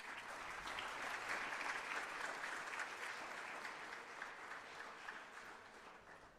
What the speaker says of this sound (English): I request audience to please give a round of applause